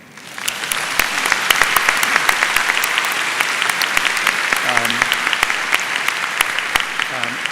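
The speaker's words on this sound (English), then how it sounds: "So let's give him a round of applause" Conference audience applause for George Yeo at a Singapore perspectives panel, a broad sustained wash of clapping with sharp individual claps standing out, and a voice briefly speaking beneath it.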